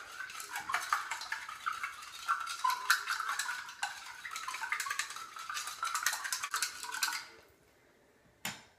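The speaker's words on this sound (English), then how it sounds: "And then you're just gonna mix it to make sure everything is dissolved." A utensil stirs a cleaning mixture in a container to dissolve it, with quick clinking, scraping strokes against the sides for about seven seconds, then quiet and one last sharp tap.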